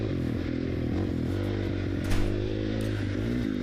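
An FC450 dirt bike on a mountain trail, its engine droning steadily at close range with a slight surge of revving midway and some clatter from the ride.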